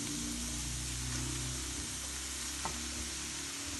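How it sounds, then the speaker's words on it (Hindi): Fenugreek leaves frying in a pan while being stirred, a continuous close hiss and sizzle with faint scraping. No voices. "क्योंकि मेथी की कड़वाहट जो है वो इसको अच्छी तरह से भूनने में जाती है। तो यहाँ पे पहले थोड़ा सा इसको पका लेंगे"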